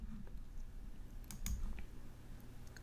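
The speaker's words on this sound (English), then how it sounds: "In the filter field, you begin to type in homeroom." Quiet keystrokes on a computer keyboard typing into a filter field, a short run of soft clicks with a couple of sharper taps over faint room hum.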